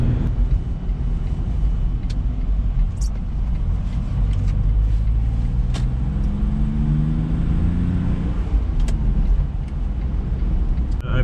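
Smart Fortwo CDI diesel car driving with its automated gearbox shifting on its own, a steady low engine drone with rising and falling pitch sweeps as gears change, heard from inside the cabin.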